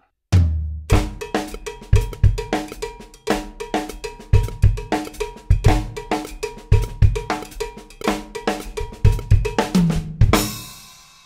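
A Mozambique groove played up to tempo on a drum kit, a bright cowbell pattern with snare and bass drum hits in a steady funky rhythm, close and loud, ending with a crash cymbal.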